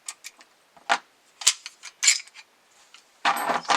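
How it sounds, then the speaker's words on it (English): Metallic clicks, slides and clacks ring out as the slide is worked off a 9mm 1911 pistol, a string of sharp close taps ending in a longer rasping scrape of steel on steel. "so we will take off the slide"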